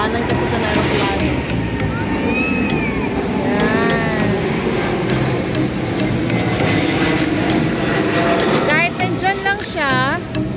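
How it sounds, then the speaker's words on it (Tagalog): An airplane passes low overhead above a park in the Al Muteena district of Dubai, a loud, steady jet roar filling the whole stretch, with voices talking and city noise underneath. "Yan ang aeroplano. Ayan, daanan kasi ito na aeroplano."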